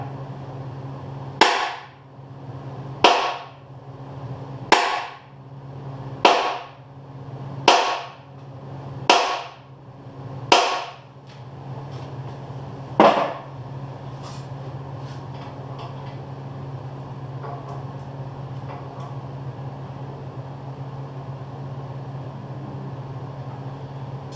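A hand hammer strikes a stuck steel part on a backhoe in eight sharp, ringing blows at an even pace, followed by one last hit after a pause, then a quiet steady hum.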